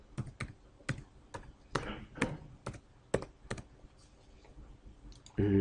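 Keystrokes on a computer keyboard as a username and password are entered, about a dozen separate close clicks in an uneven rhythm with short pauses, a louder thump at the end.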